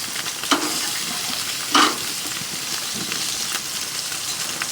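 Thick slab bacon sizzles steadily on a gas grill, a dense continuous hiss of frying fat with a couple of sharper pops and crackles rising above it, close and fairly loud throughout.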